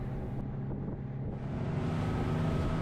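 A dive boat engine off Bonaire rumbles low and steady as it throttles down on approach to a mooring, with wind buffeting the microphone and the drone growing slightly fuller toward the end.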